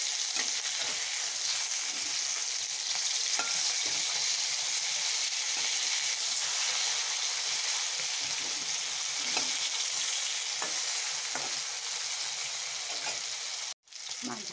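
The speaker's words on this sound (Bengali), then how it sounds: "মাছটা অল্প ভেজে নিই ভালো করে" Pieces of folui fish sizzle in hot oil in a pan, with a constant dense crackle and hiss. Faint scrapes and taps of a utensil sound now and then, and a brief gap falls near the end.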